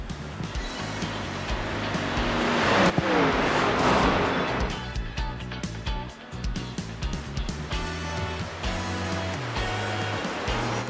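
Race cars, including a Ford Mustang running in another Mustang's slipstream, drive the Bathurst 12 Hour in iRacing, a continuous loud engine roar with rising and falling revs and gear changes throughout.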